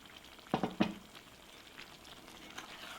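Baby eggplants go into a hot pan for a curry. A couple of sharp clacks as they drop in give way to a faint, steady frying hiss.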